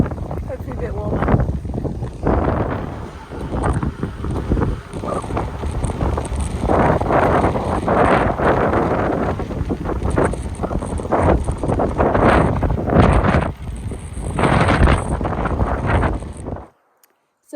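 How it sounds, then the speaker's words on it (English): Cold wind buffets the microphone outdoors on a gravel cycling trip near Girona, a steady rumbling roar with gusty surges that runs almost continuously before cutting off abruptly near the end. "The wind is pretty chilly."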